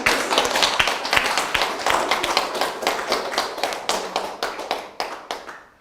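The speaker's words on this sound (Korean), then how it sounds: "우리 돌아온 노라를 위해서 박수 한번 부탁드립니다." Applause from an audience at a televised gender-equality contest event: a dense, steady patter of many hands clapping for several seconds, then thinning into scattered, louder individual claps that trail off toward the end.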